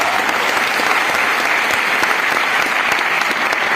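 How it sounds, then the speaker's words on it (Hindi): A crowd in a small hall at a motivational talk in Patna bursts into loud, dense applause. The clapping is close and continuous with a constant thick wash of hands that never thins out. "एक बार जबरदस्त तालियां बजाएं।"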